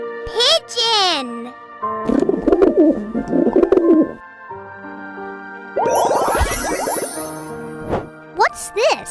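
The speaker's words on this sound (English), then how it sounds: "Pigeon." A pigeon coos in short phrases, set among bright chimes, tinkling effects and a voice.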